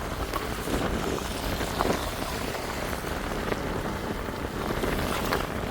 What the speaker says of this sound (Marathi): इथे कंटिन्यू पाऊस चालू इथे